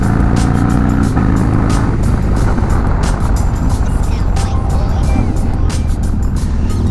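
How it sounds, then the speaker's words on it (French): A Harley-Davidson Dyna motorcycle fitted with a quickshifter roars loudly and continuously while riding, its engine note and wind noise filling the whole stretch without a break. "j'arrive à passer les vitesses sans embrayer et sans lâcher les gaz"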